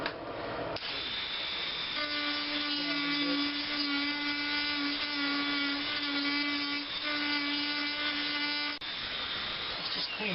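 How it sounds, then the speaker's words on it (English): A handheld Dremel rotary tool grinds out water-damaged wood flooring to clear space for toilet bolts, holding a steady, close, high-pitched whine for about eight seconds before cutting off, with no talking. "we have to get the toilet bolts in here, and what I've done using this Dremel."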